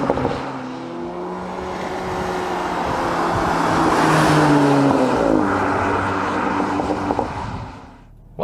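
A Cupra Ateca Limited Edition launches hard under launch control, its engine note rising loud and close through the gears toward 110 km/h before easing off at the end.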